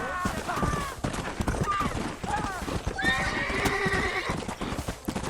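Horse hooves clip-clop steadily under a couple of loud neighs and whinnies in the Red Dead Redemption video game on PS4, with game sounds layered throughout and no speech.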